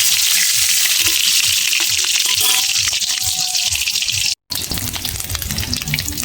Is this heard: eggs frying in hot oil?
yes